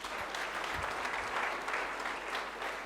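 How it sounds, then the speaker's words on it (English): A church congregation claps hands together in worship, a dense, steady patter of many palms filling the room throughout without a break. "Let's clap hands unto God."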